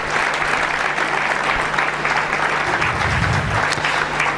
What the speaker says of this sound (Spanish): Le damos un aplauso al Señor